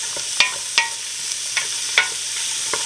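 Celery and carrots cook in a soup pot and are stirred with a utensil, giving a handful of distinct scraping clacks about every half second over a soft, steady sizzle.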